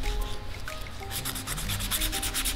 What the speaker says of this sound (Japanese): 仕上げの磨きです。